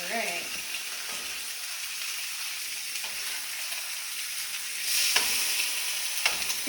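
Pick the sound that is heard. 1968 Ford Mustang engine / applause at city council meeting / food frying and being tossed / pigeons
food frying and being tossed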